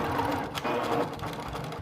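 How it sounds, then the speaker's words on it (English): A domestic sewing machine stitching a seam on patchwork stockings, a fast continuous mechanical whirr with a brief pause partway, close and steady, no talking. "take it to your sewing machine. And we're just gonna do a little bit of sewing."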